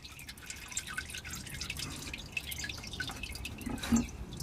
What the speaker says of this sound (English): you can see there's quite a bit of oil still draining out of there